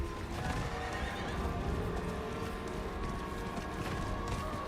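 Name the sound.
horse neighing in video game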